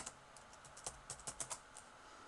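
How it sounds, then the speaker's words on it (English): Computer keyboard typing in a quiet room, a short burst of about a dozen light, uneven clicks and taps, close and faint, with no talking. "All you have to do is type in your name."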